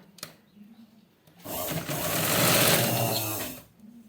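A sewing machine stitches round fabric piping in one loud, steady whirring run of about two seconds, close up, framed by quieter handling sounds of cloth before and after.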